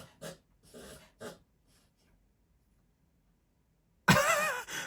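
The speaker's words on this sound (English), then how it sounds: "My dog was clearing out his nose or whatever he does with that thing." A dog snorts, clearing its nose in three quick sharp bursts, then goes quiet before a louder, rough burst of snorting breath close by.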